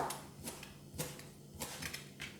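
A knife cuts fatty meat on a board for fried rice, a handful of sharp, quiet chops and taps spaced irregularly, close up with no talking.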